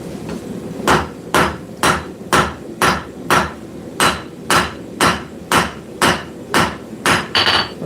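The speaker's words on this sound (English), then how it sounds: "I'm going to go to the straight peen, cross peen hammer." A cross peen hammer strikes hot steel on an anvil in about a dozen loud, evenly spaced blows, each one ringing out in a steady forging rhythm with no talk.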